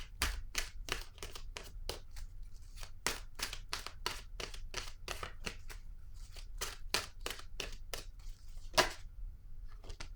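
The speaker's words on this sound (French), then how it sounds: "Je vais piger une carte maintenant de mon oracle de l'âme intuitive." Cards from an oracle deck shuffled and riffled by hand, a rapid series of crisp snapping flicks in irregular bursts, close and fairly quiet, with no talking over them.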